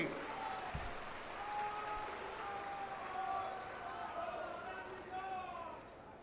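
Loud applause from a crowd at a political rally in Sandeshkhali greeting Suvendu Adhikari, a steady wash of clapping lasting throughout, with a few voices and cheers mixed in.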